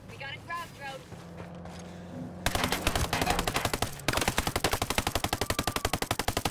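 Automatic gunfire in the video game Ghost Recon Breakpoint, loud rapid bursts that start midway and continue in fast steady volleys, with a player talking over the first part.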